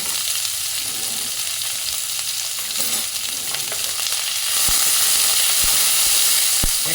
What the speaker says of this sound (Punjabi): ਫਿਰ ਪਾਇਆ ਆਪਾਂ ਨੇ ਪਿਆਜ਼ ਇਹ ਚੰਗੀ ਤਰ੍ਹਾਂ ਆਪਾਂ ਪਿਆਜ਼ ਭੁੰਨ ਲੈਣੇ ਆ